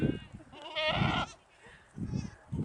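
Goats on a farm in Podlasie give a few short, wavering bleats close by, one clear cry in the middle set among softer grunts and calls.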